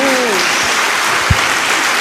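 A church congregation breaks into applause during a sermon, a steady wash of clapping with a faint voice trailing at the start and one louder thump partway through.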